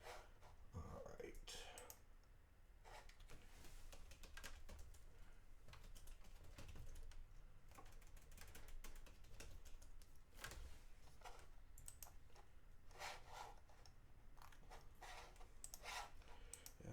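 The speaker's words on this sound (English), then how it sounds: "Sorry you hear me clicking my mouse running around." Steady clicking from a computer mouse and keyboard during a math lecture, quick small ticks repeating throughout beneath a continuous low background hum.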